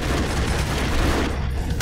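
Dense, continuous gunfire in the side-scrolling action game Broforce, a loud, unbroken barrage of shots and booms filling the whole moment with no pauses.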